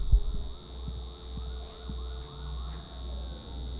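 Emergency sirens in the video game Alan Wake wail faintly in the distance, rising and falling over a low hum with soft thuds, and no one is speaking.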